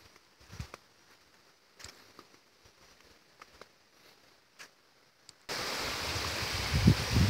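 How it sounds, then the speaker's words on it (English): Cold natural spring water pouring out of rock at Bath Fountain in St. Thomas, Jamaica: faint trickles and small splashes at first, then a sudden loud, steady rush of flowing water up close for the last couple of seconds. "Right here you have the natural spring where the water comes out of the rock"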